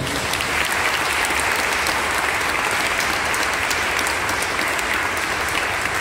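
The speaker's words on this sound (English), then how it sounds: "I think they deserve a big applause." Thick, sustained applause from a church audience for special children who acted out the Stations of the Cross, dense and even throughout with no single voice standing out.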